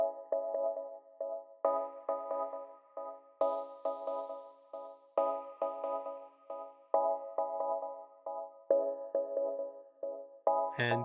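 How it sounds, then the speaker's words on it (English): A single synth note repeats in steady, evenly spaced pulses while an LFO-driven analog-style filter bank sweeps its tone back and forth, giving a lush, shifting texture that plays alone and clear throughout. "that's literally the same note being played over and over, but the movement is created by the filter"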